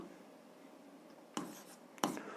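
An equation being written by hand for a 7th grade algebra exercise gives two short, quiet scratchy strokes about half a second apart, against a faint background with no talking.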